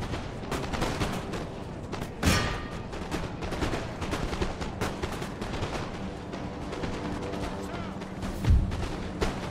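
Musket volleys in Empire: Total War, the historical strategy game: ragged, crackling rifle fire rattles steadily with heavier booming reports at intervals, loud and busy without any talk.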